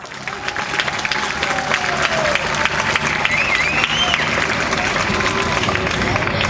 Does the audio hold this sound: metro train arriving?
no